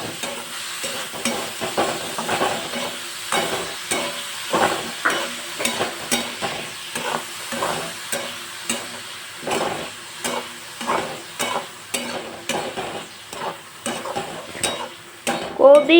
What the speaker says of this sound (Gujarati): અડધા કપ જેટલી કોબી લઈ લીધી છે। એને પણ ગોલ્ડન બ્રાઉન સુધી કૂક કરી લઈશ।